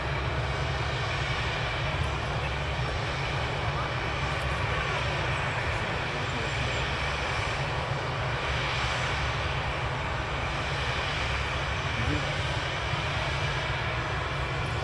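A fixed-wing aircraft engine roars steadily at Manchester Airport, a continuous broad rumble that swells slightly mid-clip, loud and sustained with no talk.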